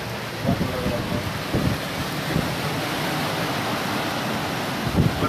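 Heavy monsoon downpour during a strong windstorm, a dense steady roar of rain with a few louder low rumbling bursts rising above it, no voices.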